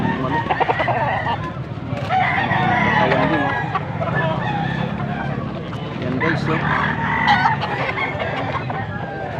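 A rooster crows amid clucking farm fowl at a poultry sale in Angeles, Pampanga, with people talking loudly over it throughout.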